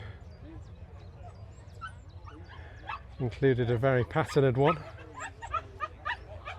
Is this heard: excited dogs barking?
yes